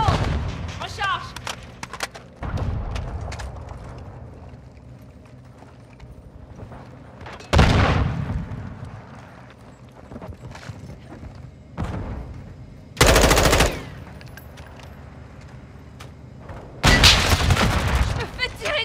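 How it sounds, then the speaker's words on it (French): Gunfire in the video game Modern Warfare 2 multiplayer, with several loud bursts of shots and booms at scattered moments against a busy background of quieter in-game sounds. "Je me fais tirer dessus."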